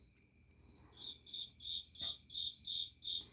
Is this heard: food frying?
no